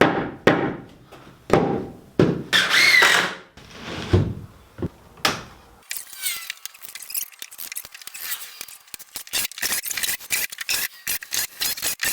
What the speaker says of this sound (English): we're gonna put 3 screws for each stud going up